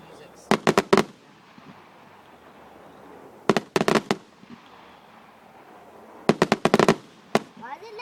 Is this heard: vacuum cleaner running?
no